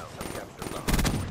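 Gunfire in a first-person shooter video game, a sharp burst of shots with a loud crack near the end, close and punchy, under faint game noise and voice.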